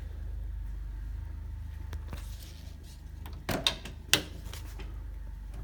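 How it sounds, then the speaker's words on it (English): Doors of a restored 1970 Hemi 'Cuda, long stored since 1984, open with a couple of sharp latch clicks and thunks over a low steady background hum, fairly quiet and close. "And you can hear even just the doors, opening the doors, they just sound so nice."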